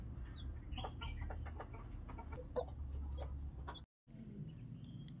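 Domestic hen with chicks clucking in a rural Thai backyard, with soft repeated clucks and cheeps over steady low background noise, broken by a brief silent gap near the end.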